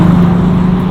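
A 1967 Chevrolet Camaro SS Pro-Touring with an LS engine runs loud and close, a steady low rumble with a strong engine tone held throughout, no voices over it.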